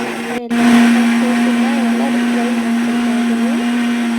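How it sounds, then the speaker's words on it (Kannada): A mixer grinder whirs steadily as it grinds masala for a white chicken curry in a home kitchen. The motor hum is loud and continuous from start to end after a brief start-up gap. "ಅದೇ ಗ್ಯಾಪಲ್ಲಿ ನಾನು ಈ ಕಡೆ ಗ್ರೈಂಡ್"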